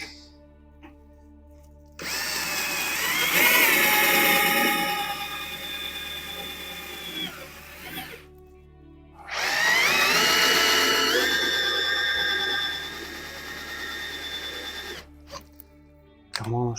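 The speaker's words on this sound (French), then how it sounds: "Donc on va percer 2 trous de 5 ici." A Parkside 12V or Bosch Pro cordless drill bores two 5 mm holes, each a loud, sustained whining run of several seconds with a short pause between, the motor pitch shifting as the bit cuts.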